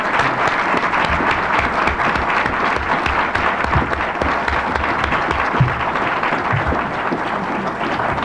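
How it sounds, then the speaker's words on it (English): A debate audience applauds the two candidates for state superintendent of public instruction, a dense, steady wash of many hands clapping that holds at an even level from start to finish with no voices above it. "Let's give them both an applause"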